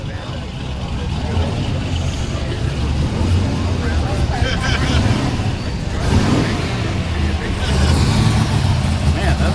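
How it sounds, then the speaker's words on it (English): A classic Plymouth Belvedere engine rumbles steadily at a car show, a continuous low idle with slight revving swells, mixed with nearby crowd chatter. "Man, that Belvedere sounds amazing."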